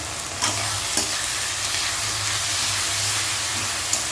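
Spice paste is stirred into frying onions for a mutton dish, giving a steady, loud sizzle and hiss with a few sharp scraping clicks from the spoon.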